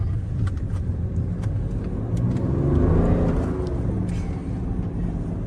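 A BMW F10 inline-six engine pulls hard as it accelerates, a steady rumbling growth that swells toward the middle and eases off, continuous throughout with no talk.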